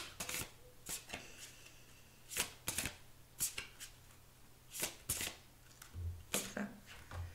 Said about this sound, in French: Je vais vous tirer une autre carte là-dessus.